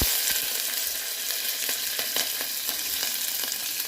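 Chopped onions and green chilies frying in a pan, a steady close crackle and sizzle with faint scraping stirs, no talking.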